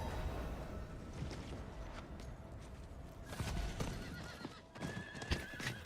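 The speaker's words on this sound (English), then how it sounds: "I see you chose the blue horse too." A horse neighs in Diablo 4, with game hoofbeats clopping and a couple of loud whinnies standing out over a dense, steady game soundscape.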